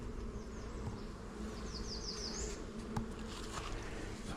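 Honeybees from one of three backyard hives buzz steadily and close during an open hive inspection, a dense continuous drone with occasional individual bees whining past the frames.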